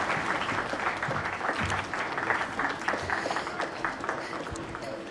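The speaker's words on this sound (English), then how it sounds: "Let's give the President another round of applause for the message." An audience applauds President Jacob Zuma's speech at a South African National Day of Reconciliation event: a dense, sustained wash of many hands clapping, loud and continuous throughout.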